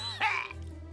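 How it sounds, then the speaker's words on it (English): A cartoonish character coughs in the Manual Samuel video game after choking on a mouthful of water: one short, close throat-clearing cough burst, followed by a low steady background hum. "He has to cough."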